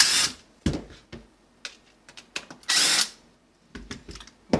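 Short bursts of a power drill whirring in quick, irregular spurts, close up, with brief pauses between them.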